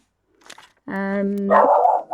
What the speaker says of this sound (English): Oh, sorry about the dog, gosh.